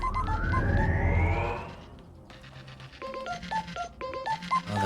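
A phone rings and jingles in Scrap Mechanic: Drilling Thunder, a bright electronic melodic tone over a loud rumbling start, then clear repeated ring pulses standing alone at moderate volume.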